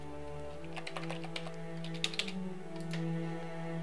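Quick, irregular clicks of typing on a computer keyboard, close and fairly crisp, coming in bursts with short pauses over a steady low electrical hum.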